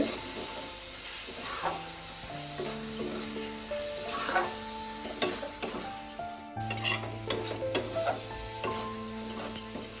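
Chhana and grated coconut stirred in a pan for sandesh give a continuous soft sizzle with scraping stirs and light utensil knocks, close and steady over faint melodic background tones.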